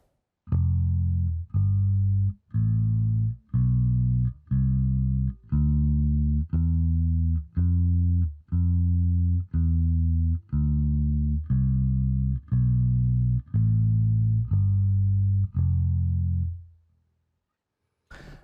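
Deep bass guitar notes played one after another at an even, steady pace, each note sustained and clearly separated, moving alone through an F Lydian scale in open position.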